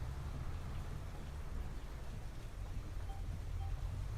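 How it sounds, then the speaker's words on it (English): Heavy rain pours down steadily on a farm, a dense continuous hiss of drops on surfaces with a low rumble underneath, unbroken for the whole stretch. "Come on, rain, stop already."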